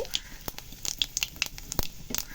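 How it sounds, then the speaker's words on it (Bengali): Cumin seeds, a bay leaf and a dried chilli sizzle in hot oil for a Bengali-style fish curry. The oil spits and crackles in quick, irregular pops, quiet and close. "প্রথমে দিচ্ছি জিরে অল্প একটা তেজপাতা একটা শুকনো লঙ্কা ছেড়ে দিচ্ছি"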